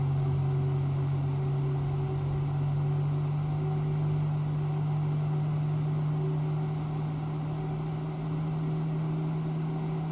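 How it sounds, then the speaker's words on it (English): Airbus A321neo engines spooling up during start in the FSLabs flight simulator, a steady, loud droning hum with a strong low tone that holds evenly throughout, with no talking. "the engine start sounds are terrible"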